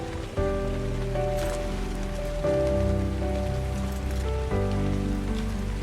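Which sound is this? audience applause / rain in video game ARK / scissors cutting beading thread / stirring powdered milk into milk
rain in video game ARK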